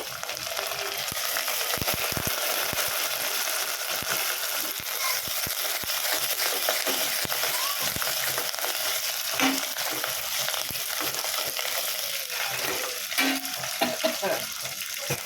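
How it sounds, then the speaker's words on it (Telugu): Curry leaves fry with browned onions in hot oil for tamarind rasam. A dense, steady close sizzle with crackles and occasional stirring scrapes runs throughout, with no talking. "తర్వాత కరివేపాకు వేద్దాం ఒక రెండు రెమ్మలు"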